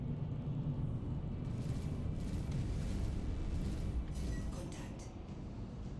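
Missiles slam into a spaceship during Star Citizen combat, a dense, continuous rumbling roar of impacts and blasts that holds loud and steady, then eases slightly near the end.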